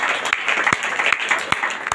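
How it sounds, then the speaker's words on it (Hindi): A congregation at a prayer gathering claps loudly in praise, a dense continuous patter of many hands with a few sharper, louder claps standing out close by. "प्रभु का जोरदार ताली बजाकर"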